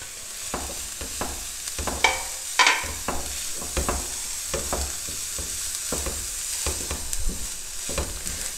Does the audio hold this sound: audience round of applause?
no